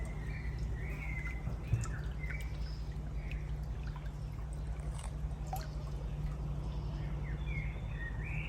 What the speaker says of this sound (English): There was the most beautiful bird song all the way round